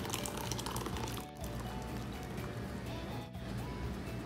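Curdled milk for paneer pours through a kitchen towel laid over a strainer. Liquid streams and splashes in a steady, faint flow, dipping briefly twice.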